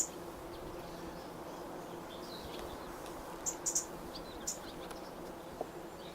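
Honey bees at a hive in an orchard, a soft continuous low hum with faint bird chirps scattered above it, quiet and steady.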